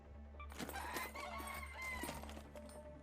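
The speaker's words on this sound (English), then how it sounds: "Scrappy, your loyal rooster, will gather basic supplies when you're topside." A rooster in the video game ARC Raiders clucks and crows in a few short bursts over a low steady game hum.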